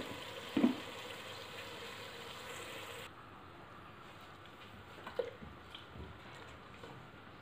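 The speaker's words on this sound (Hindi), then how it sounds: "ऑयल थोड़ा सा गर्म हो गया है तो इसमें मैं डाल रही हूँ प्याज" Finely ground onions frying in hot oil for a paya curry, a steady soft sizzle with a few faint stirring clicks, quieter partway through.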